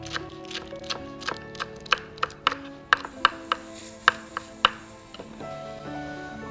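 A knife chops Malabar spinach and black nightshade greens together on a board, a steady run of sharp, close knocks that grow louder midway, then trail off.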